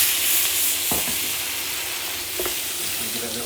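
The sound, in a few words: lamb shoulder with garlic, bacon and peas sizzling in a pan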